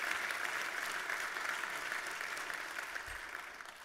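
Audience at a national defense forum applauding in honor of service members, a sustained, even roar of many clapping hands heard at a distance, slowly tapering.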